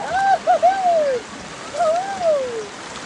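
A waterfall rushes in a steady, broad wash of water, while a voice rises and falls clearly over it.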